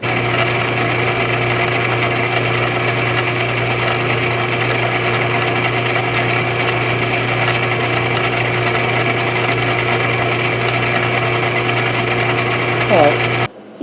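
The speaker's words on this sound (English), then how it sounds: "So I got a 3/8 bolt here, and we'll cut it down to that size" An angle grinder cuts down a 3/8 inch bolt in a workshop, giving a loud, steady, high-pitched whine that holds without a break for about thirteen seconds before cutting off abruptly.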